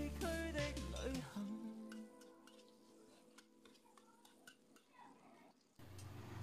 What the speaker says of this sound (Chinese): 然后倒入五花肉煸炒，炒出五花肉的一些油脂